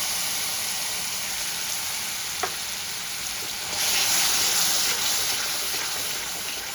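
Sesame and peanut paste sautéing in a pan, a steady close sizzle and hiss that grows slightly louder and brighter partway through, with a faint tap of a utensil.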